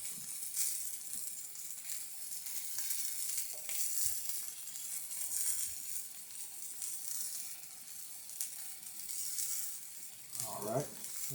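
Beer-braised Italian sausage cooking in a pan gives a steady broadband sizzle with soft crackles, running continuously at moderate level, with a brief clatter near the end.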